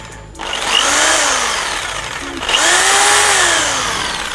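A Stanley SJ45 variable-speed jigsaw runs unloaded, its high motor whine climbing in pitch as the trigger is squeezed, easing off, then ramping up again loud and close.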